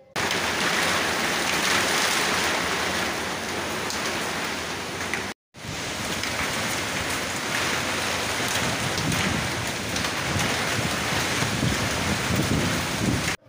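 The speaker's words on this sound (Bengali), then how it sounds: "বৃষ্টি শুরু হয়ে গেছে" Steady rain pours with gusting wind buffeting the microphone, heard from an open rooftop; the dense wash of noise runs continuously apart from one brief cut.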